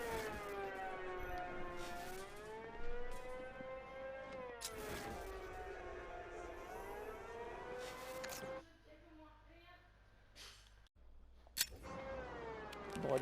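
A loud wailing siren rises and falls steadily in the Batman: Arkham Knight video game, continuous for most of the stretch, with a brief dip into quieter background noise before the siren returns.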